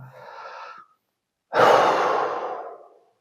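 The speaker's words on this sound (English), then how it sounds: "So take a few deep breaths like that." Slow, deep breathing as a relaxation exercise: a soft inhale followed after a pause by a longer, louder exhale, close to the microphone.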